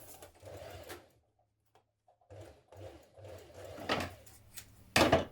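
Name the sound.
sewing machine stitching seam corners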